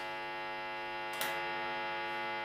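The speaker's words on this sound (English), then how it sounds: "Anything else that you hear is just the sound of an amp and a guitar being on." A steady electric hum from an idling electric guitar and amplifier, with strong stacked harmonics, holds at an even level throughout, broken only by a brief faint click near the middle.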